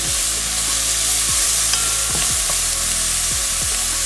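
Mint fries loudly in a hot pan for a braised oxtail stew, a dense, constant sizzle with a few soft scraping stirs as it is moved around. It is close up, with no talking.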